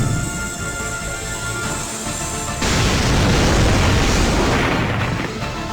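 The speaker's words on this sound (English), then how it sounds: "Activate the denial field and engage all cannons. Let's clean house with a single volley." Cannon volley explosions in the Tokyo Afterschool Summoners video game, a loud sustained roar of booming blasts that thickens and swells midway, filling the whole mix without any voices.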